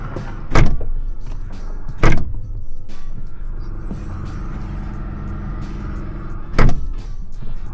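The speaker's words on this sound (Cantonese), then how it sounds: "其實都可以擺到唔少嘢" A Gordon Murray T.50 supercar's door shuts with sharp solid thuds, three in all, well spaced against a low steady interior hum and light handling noises; no one talks.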